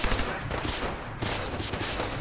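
Rapid gunfire crackles in the video game Fallout 4, a dense, continuous burst of overlapping shots filling the whole moment at close range.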